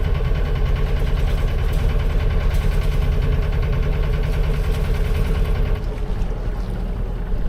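The inboard engine of a 30 ft sailboat idles at sea, a loud, close, steady low throb with a rhythmic knocking pulse that runs throughout under a wash of water and wind.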